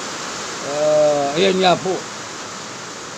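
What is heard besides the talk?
heavy rain pouring outside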